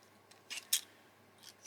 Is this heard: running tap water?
no